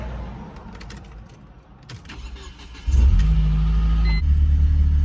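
A Mercedes C230 Kompressor engine, freshly fitted with a new valve cover gasket, fires up after a quiet stretch and settles into a steady, loud low idle, with a brief jingle of keys before it catches.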